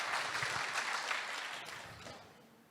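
Audience applause at a Korean IT industry seminar on public-sector digital workplaces, a broad crackling wash of many hands clapping that holds steady and then gradually fades over a few seconds, with no voices on top.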